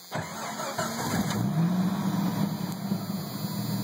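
A Jeep Cherokee, around a 1989–90 model with a recently replaced EGR valve, cranks briefly and catches, then settles into a steady, close engine rumble with a slight rev early on.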